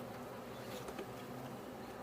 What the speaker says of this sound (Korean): 오, 말벌 장난 아니에요.